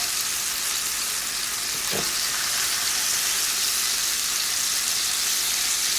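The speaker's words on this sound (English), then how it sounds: "So I'm going to get a good sear on this side." Steak searing in a hot cast iron pan over medium-high heat, a loud, steady hiss of sizzling fat close by with one brief knock near the start.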